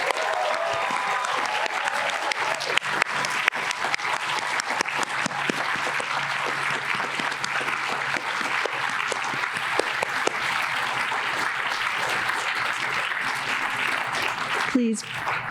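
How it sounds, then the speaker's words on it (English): Graduates and guests at a college commencement applaud the faculty, a steady, dense round of clapping that holds throughout before a brief handling knock near the end. "Applause for the faculty."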